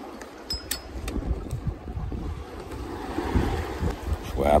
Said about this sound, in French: Bon là le vent a repris un petit peu quoi